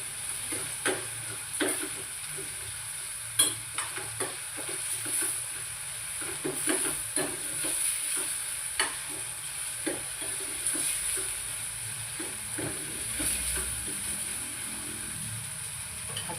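Ginger-garlic paste sautéing in a pan, a quiet constant sizzle with regular clicks and taps of a spoon stirring against the pan, close and without talking.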